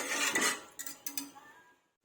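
A spoon stirs gelatin mixture in a pot over a stove burner at medium heat, giving a few close metallic scrapes and clinks that fade toward silence at the end.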